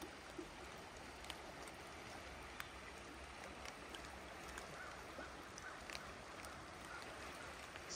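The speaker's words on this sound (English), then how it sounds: "It's definitely relaxing, the water sounds." Water flows steadily in an icy, foggy Midwest river at night, a faint continuous rushing murmur with a few soft distant ticks and splashes; no talk.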